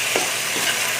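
Ingredients sautéing in cooking oil before oyster sauce is added, a steady bright hiss of sizzling with faint stirring scrapes, close and continuous with no talking.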